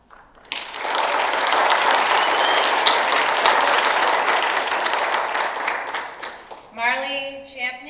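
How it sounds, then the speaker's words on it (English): An audience at a National Junior Honor Society induction ceremony applauds an inductee, steady clapping for several seconds that tapers off before a brief voice speaks at the end. "You can clap, it's okay."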